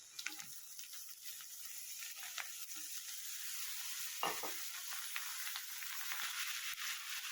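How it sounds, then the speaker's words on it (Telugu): Grated cabbage sizzles quietly in a pan of hot oil, with a spoon scraping and stirring through it in occasional clinks, steady and without voices. "ఇప్పుడు ఇందులో మనం క్యాబేజీ తురుము వేసుకుందాం."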